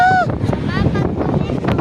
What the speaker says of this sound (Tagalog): Lakas pa naman ang hangin.